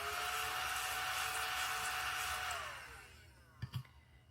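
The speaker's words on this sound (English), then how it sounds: "So I'm going to vacuum this off." A small vacuum whirs steadily at close range, then winds down as its pitch falls off, followed by two soft knocks near the end. No one speaks.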